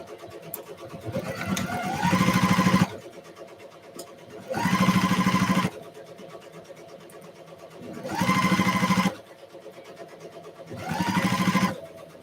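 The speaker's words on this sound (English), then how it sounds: "All right, I'm going to sew them together." A sewing machine stitches fabric pieces together in four separate runs of about a second each, its motor whirring up and stopping between bursts with quiet pauses in between.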